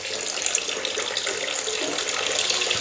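Water pours from a spout into a tarp goldfish pond holding oranda goldfish, with no filter running: a steady splashing trickle, close and even throughout, without talk.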